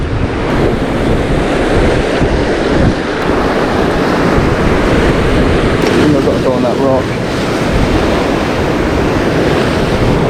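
Ocean waves break near rocks on a Central American shore, a loud, constant roar of surf mixed with heavy wind buffeting the microphone, close and unbroken throughout.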